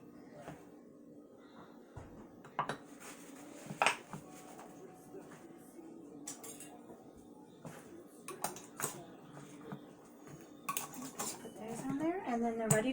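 Metal lids being set and fitted onto glass jars of home-canned oranges in a kitchen, with scattered light clinks, taps and scrapes at irregular intervals, close and fairly quiet, growing busier toward the end.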